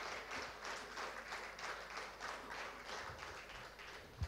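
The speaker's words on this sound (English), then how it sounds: "I would like to welcome Dr. Mamta Deenadayal with a big round of applause" Applause from a conference audience welcoming a guest speaker at an event, a faint, even wash of many hands clapping for about four seconds with no one talking over it.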